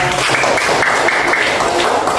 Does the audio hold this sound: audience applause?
yes